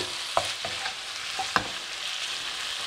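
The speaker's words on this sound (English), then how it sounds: "So let's get our chilli in there. Give that a stir through." Chilli stir-frying in a hot pan for a chicken ginger stir fry, giving a steady loud sizzle throughout with a few knocks of a spatula against the pan; no one speaks.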